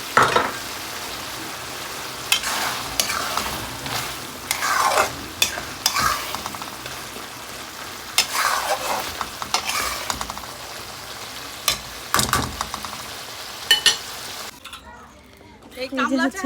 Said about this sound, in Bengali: আমি এখন রসুন দিয়ে দেবো রসুন